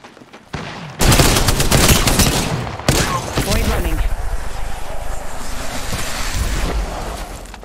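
Heavy automatic gunfire in Apex Legends erupts abruptly and loudly, sustained rapid bursts with a brief break, continuing as dense crackling fire until the end.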